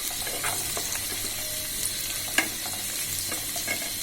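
Onions frying with panch phoron five-spice in a pan, a steady close sizzle broken by scattered scraping stirs and one sharp clink, with no voices.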